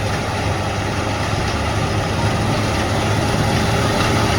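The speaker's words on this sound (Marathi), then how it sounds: "भरत आला आता टँक. ट्रॅक्टर चालू झाला ना." A tractor engine runs steadily in a wheat field, giving a loud, continuous low rumble with a mechanical drone that stays even throughout, with no voices.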